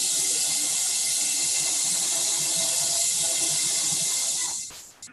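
Water flushing noisily through a wide bottle during a physics class recoil demonstration, a steady loud rushing hiss held for several seconds before it cuts off near the end.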